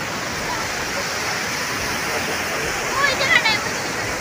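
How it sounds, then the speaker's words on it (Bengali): Water pours steadily through the gates of a dam in a broad, continuous roar that stays even for the whole stretch, with a few brighter splashing surges near the end. "এই যে একটা গেট দুটো গেট আরও যে তিনটে গেট দেখো জল যাচ্ছে সুন্দর"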